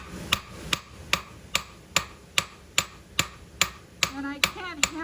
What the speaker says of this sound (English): So now what I want to do is go in and hammer.